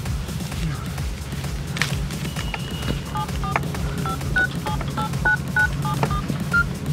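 A phone number is tapped out on a mobile keypad, a quick run of about a dozen short, clear beeps in an uneven rhythm over a steady background hum, with brief talk around it.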